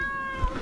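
A single short cat meow comes from the video game Dave the Diver, clear and close over quiet game background.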